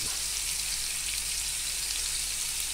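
Black pomfret fish coated in tandoori masala fries over medium flame, a steady dense sizzle that holds evenly and close throughout with no voices.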